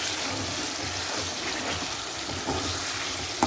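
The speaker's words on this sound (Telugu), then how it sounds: "ఇప్పుడు టొమాటోస్ అండ్ ఇది బాగా కుక్ చేస్తాను ఆయిల్లో." Chopped tomatoes fry in oil with no water added, cooking down for a tomato pickle, giving a steady, close sizzle with soft bubbling and occasional stirring.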